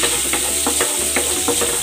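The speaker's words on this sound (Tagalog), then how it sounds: "Igigisa ko na tong bawang." Garlic sautés in butter with a steady, close sizzle, broken by a few soft stirring scrapes and no talking.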